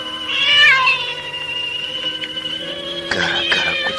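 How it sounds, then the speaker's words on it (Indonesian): A cat meows loudly and near in a radio drama set on Mount Merapi, one long drawn-out yowl followed by a steady sustained tone, then several shorter cries near the end. "Kucing sialan."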